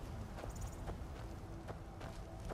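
A horse's hooves clip-clopping in Skyrim, a handful of soft, evenly spaced hoof knocks at walking pace over a faint, dense game ambience.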